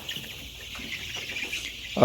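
Hens clucking softly in the background on a chicken farm in Tangail, Bangladesh, a low busy farmyard murmur with a brief louder burst near the end.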